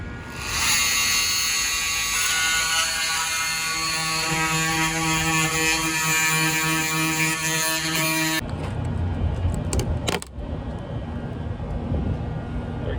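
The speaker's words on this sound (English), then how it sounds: "I'm using this awesome tool here to kind of chisel it away" A power tool whines steadily and loudly while chiseling old wood and glue off a 13-foot Boston Whaler boat, then cuts out partway through, leaving a rougher scraping noise with a brief gap near the end.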